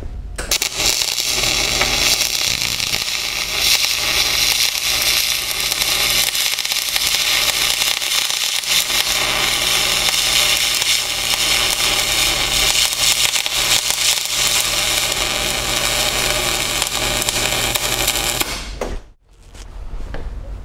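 A MIG welding arc in spray transfer at 27.5 volts, with wire feed speed at 450 inches per minute, gives a steady, loud, close hiss and crackle for about eighteen seconds, then cuts off abruptly. No one speaks.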